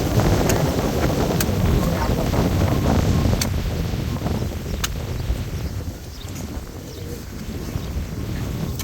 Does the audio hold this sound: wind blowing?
yes